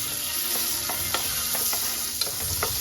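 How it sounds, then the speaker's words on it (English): A small piece of butter melts in a frying pan with a steady, close sizzle. Light scraping taps from stirring recur every half second or so. "I'm just gonna like let that butter, like a small one, just melt."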